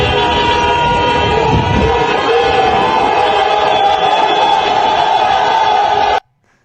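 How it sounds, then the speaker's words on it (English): A large street crowd in Holland roars and shouts as it tears down surveillance equipment on a corner, a loud, steady wall of voices and commotion that cuts off abruptly at the end. "And you see the crowd, they're just ripping it down, dude."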